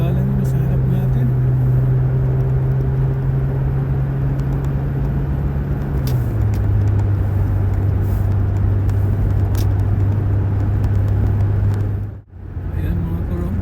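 A car travels along a road while overtaking slower traffic ahead. Its engine hums steadily and closely, the tone shifting lower about halfway through, and a brief dip in the noise comes near the end.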